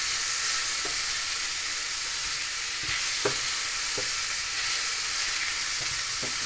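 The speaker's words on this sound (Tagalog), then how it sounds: "Kailangan pa natin gawin konting brown sa pork." Pork browning in a hot pan gives a steady, loud, dense sizzle throughout, with a few faint clicks of stirring underneath and no talking.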